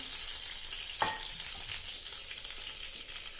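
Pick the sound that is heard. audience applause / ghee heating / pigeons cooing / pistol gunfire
ghee heating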